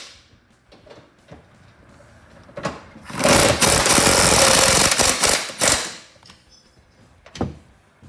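Nuts being tightened on the bolt bars of a Western 31700 or Fisher 77109 snowplow mount: a loud, harsh rattling mechanical burst lasting about three seconds, then a shorter burst and a few quieter knocks.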